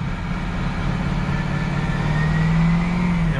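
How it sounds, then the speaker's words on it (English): A 6.0L Powerstroke diesel truck engine with a turbo underboost fault revs loudly and close under choppy, uneven throttle, its drone rising and holding briefly before easing. "I'm gonna give it some throttle and show you kind of guys what it's doing."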